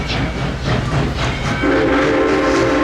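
A museum train at the Tennessee Valley Railroad Museum rumbles past close by, wheels clattering in a rhythmic beat before a sustained horn-like tone sounds loudly over the running noise.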